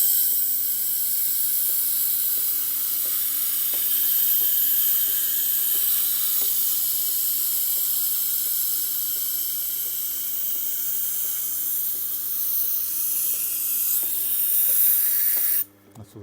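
Tormek T8 grinding a reverse curve knife on a 320 grit stone in one light pass, a continuous hissing rasp over a low steady motor hum with a faint regular ticking, close and without speech.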